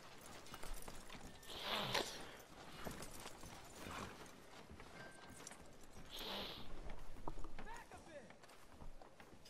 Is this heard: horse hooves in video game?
yes